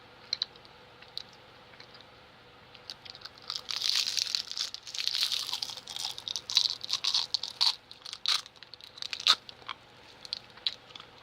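Crunchy candy chewed close to the mic, with irregular sharp crunches and wet mouth clicks that build in bursts, over a quiet steady hum and no speech.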